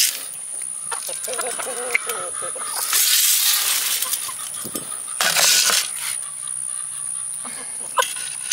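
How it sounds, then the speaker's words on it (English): Hungry chickens cluck and fuss at feeding time while grain or feed rattles and clinks, soft scattered calls close by under a person's occasional talk. "Let's go ahead and feed the chickens. They're hungry."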